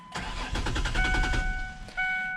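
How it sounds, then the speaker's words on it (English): A car engine cold starts with a brief starter crank, catches into a rhythmic chugging, then settles into a steady idle with a whine over it and a small surge near the end, close and alone. "let's go ahead and cold start this mamma jamma"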